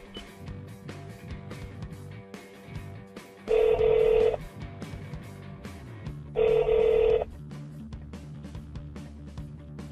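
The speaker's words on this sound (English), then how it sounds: "push the off hook switch to dial, or say, dial." A car's hands-free voice-command phone system places a call, sounding two separate ringing tone bursts a few seconds apart over a quiet cabin background.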